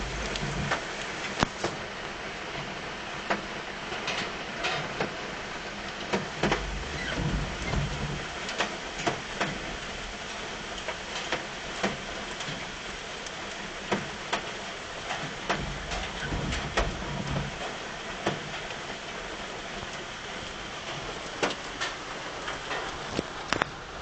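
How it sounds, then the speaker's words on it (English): Rain patters steadily on tin trash cans, with scattered louder drips and taps ringing out irregularly over a constant hiss. "that's the rain coming down on the trash cans"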